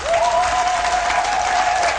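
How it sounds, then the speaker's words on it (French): A church congregation at a consecration Mass in Côte d'Ivoire claps loudly and densely, a steady wash of applause with a held sung or voiced tone running over it. "Nous applaudissons très fort"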